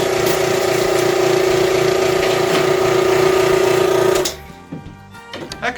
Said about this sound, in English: That compressor always goes off right at the wrong time.